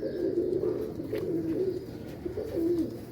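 Pigeons coo softly and repeatedly during a morning feeding, low burbling calls rising and falling in steady overlapping waves close by, with no talking.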